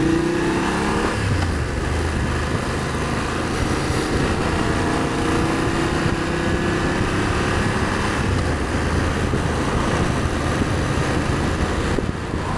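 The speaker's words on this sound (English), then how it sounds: "Got a lot of wind noise though, because this little screen isn't doing anything" Heavy, steady wind roar buffeting the rider of a BMW F750GS motorcycle with a small screen, dense and loud throughout, mixed with the engine drone while riding, with no talking.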